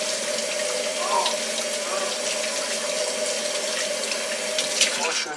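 Tap water runs steadily into a kitchen sink while hands are washed, a close, even hiss of flowing water with small splashes, lasting the whole time.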